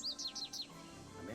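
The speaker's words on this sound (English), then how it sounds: "American goldfinch." An American goldfinch call from the Nancy Drew: Ghost Dogs of Moon Lake video game: four quick, bright, descending chirps in a row, fairly close and clear, followed by a low murmur.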